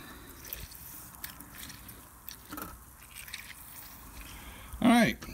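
Grapefruit halves squeezed by hand in a home kitchen give faint wet drips and squelches of juice, scattered and quiet, before a voice speaks near the end.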